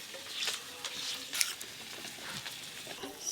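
Crabs frying in ghee in a pan, a soft steady sizzle with scattered crackles and a few brief stirring scrapes, fairly quiet throughout.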